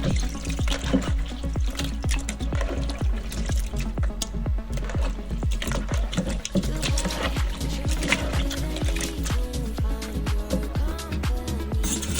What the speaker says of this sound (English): Next, I wash it with water and lime.